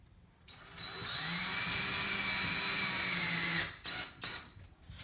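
A power drill drives plastic wall anchors into pre-drilled holes in drywall while a produce board is being hung, whining steadily and close for about three seconds before stopping, followed by a few short bursts.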